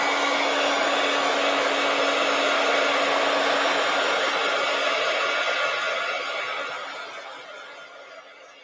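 A hair dryer blows steadily at close range over a watercolor journal page, a loud constant whoosh with a faint motor hum, then fades as it is moved away or switched off.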